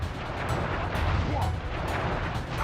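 Fiery firework-attack explosions crackle and boom in the Sly Cooper PS2 game, a dense continuous barrage of low rumbling blasts with sharp bursts layered on top.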